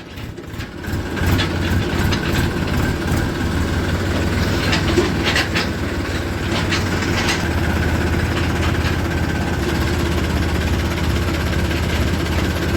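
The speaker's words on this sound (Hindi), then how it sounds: "दूसरे गियर में ही छोटा चला जाता है ट्रैक्टर, और दूसरे गियर में फोर्ड चला जाता है।" A Ford tractor drives in second gear, giving a steady, loud engine drone with a low rumbling hum and faint rattles and clicks throughout, with no voices.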